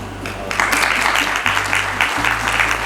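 A room audience claps at a talk, a burst of dense applause that swells after a moment and continues steadily over a low electrical hum.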